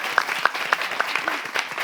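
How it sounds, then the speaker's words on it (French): Light, fairly sparse applause from a small audience, individual claps audible in an uneven rhythm at moderate distance. "Merci de l'applaudir quand même."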